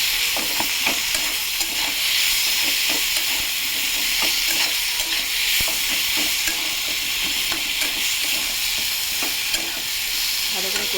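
Fish head and taro stolons are stir-fried in a pan, giving a steady loud sizzle and hiss with repeated scraping strokes of a spatula, close up and without speech.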